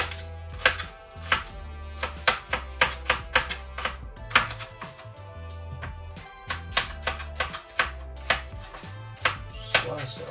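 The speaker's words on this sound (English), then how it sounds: "I want to slice this quite thinly. So yeah, I'm just going to slice it along the grain like that." A knife slices an onion thinly along the grain on a chopping board in a boat kitchen, giving a steady run of crisp, close chops and board taps with short pauses between bursts.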